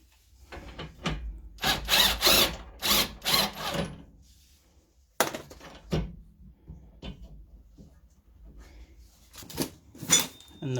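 Power tool, likely an impact gun or drill, working a 15 mm bolt on a Ford Mondeo ST220 during rear top mount replacement: several short loud bursts close by, separated by pauses and clunks.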